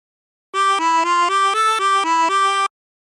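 Turkey in the Straw played on a 24-hole tremolo harmonica: a bright, wavering reedy melody of eight quick, steady notes, close and loud, alone with no talk.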